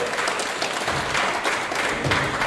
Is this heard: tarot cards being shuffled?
no